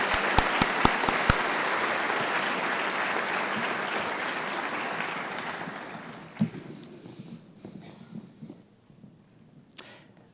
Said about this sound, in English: Let's have a round of applause for this group.